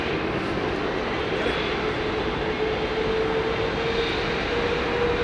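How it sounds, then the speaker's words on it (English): At London Heathrow Airport, a Boeing 777-300 airliner produces a continuous, even engine drone at moderate distance, with a faint steady tone running through it and no voices. "Here's a nice, clean 777-300."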